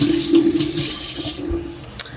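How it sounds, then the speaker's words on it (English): Tap water runs steadily into a sink while hands are washed beneath it, a close splashing rush that thins out near the end. "Let me wash my hands."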